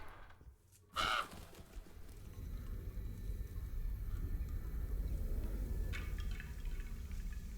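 Crow cawing in the horror game Alone in the Dark, a single short call near the start, followed by a low ambient game rumble and faint scattered clicks.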